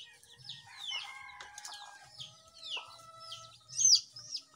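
Several Bisaya native chickens cluck and call in short bursts with chirpy birdsong overhead, moderately close, with a louder squawk near the end.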